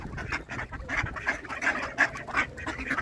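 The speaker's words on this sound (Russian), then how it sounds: "Сейчас Маш, давай бери, корми уточек." Several ducks at a zoo quack repeatedly in close, overlapping bursts, a lively chorus of nasal calls with no talking.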